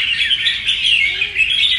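A wild-caught bird, held by a keeper, chirps in a rapid, continuous stream of high, bright notes, close and fairly loud with no voices over it.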